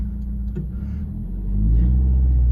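A manual car rolls off a driveway, a low engine rumble heard from inside the cabin that grows deeper and louder partway through as the car moves off.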